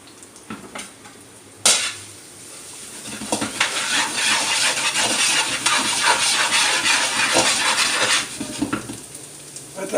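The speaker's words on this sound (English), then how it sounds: "Let that garlic cook really well." Minced garlic cloves cook in a pan, giving a bright, steady sizzle and crackle, with a sharp metallic knock and clinks of a spoon or utensil against the pan, close and fairly loud.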